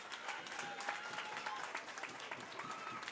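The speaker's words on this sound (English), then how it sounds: "please give these two warriors a round of applause." Crowd applause at a UKFC 39 junior fight night, a steady spread of clapping that fills the whole moment at moderate level, fairly distant with a roomy wash and no talk.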